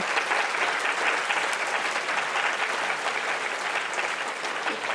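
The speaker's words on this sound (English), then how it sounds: "round of applause to the team that pulled it together" Sustained applause from a conference audience fills the room for a thank-you to the organizing team, a dense, steady clatter of many hands with no talk over it.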